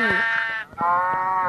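Two close, loud sheep bleats in quick succession in Minecraft, each a wavering nasal cry, with no speech over them.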